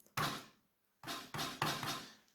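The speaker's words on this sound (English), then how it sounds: "it sounds like a snare drum being played pretty light" A snare drum sound from a modular synth is played lightly, giving four soft, tight, gated hits: one alone, then a quick cluster of three with brief decays.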